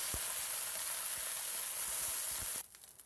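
Beef sizzles and browns in a hot stir-fry pan, a loud, dense, continuous hiss with a few soft knocks, cutting off abruptly near the end.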